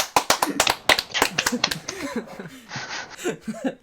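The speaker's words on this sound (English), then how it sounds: "Round of applause for Jimmy" A small round of clapping on a podcast, a few quick claps followed by laughter and chatter from the hosts.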